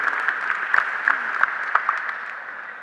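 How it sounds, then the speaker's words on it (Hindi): An audience at a garment trade fair event gives a short burst of applause as guests are welcomed, with sparse, moderately loud claps over a steady background hum. "आपसे कहूंगा तालियों की गड़गड़ाहट से इनका स्वागत करें।"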